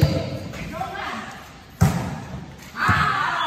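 A volleyball is struck on a serve during a match, giving a sharp thump near the middle, followed later by another impact and crowd noise, with a voice over the court.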